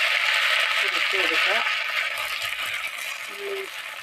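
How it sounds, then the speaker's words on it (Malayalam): Mustard seeds hit hot coconut oil in a pan while cooking a Kerala-style curry, giving a dense, steady sizzle and crackle that fades slightly toward the end, with a voice talking briefly over it. "എണ്ണ ചൂടായിട്ടുണ്ട് അതിലേക്ക് നമുക്ക് കടുക് ഇട്ട് കൊടുക്കാം"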